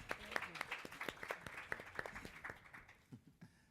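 Scattered applause from a plenary session audience, quiet and somewhat distant, with uneven clapping that thins out toward the end.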